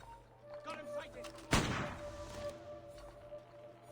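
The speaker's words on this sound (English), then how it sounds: "the sound of a gunshot has actually mattered" Single gunshot in the video game Assassin's Creed, a sharp crack with a short booming tail amid quiet in-game ambience and faint background tones.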